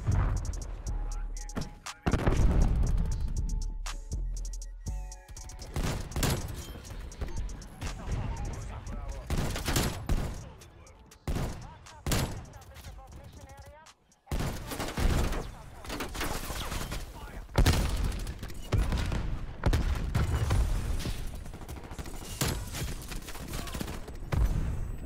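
Rapid gunfire from Diamatti hand cannons in the game Call of Duty: Cold War, dense repeated bursts of shots over about twenty-five seconds of busy match sound, loud and near.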